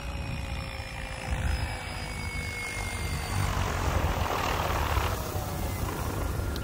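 A Protos 800X RC helicopter flies at the field, its rotor and turbine whine a loud, steady, continuous roar with shifting high tones as it moves.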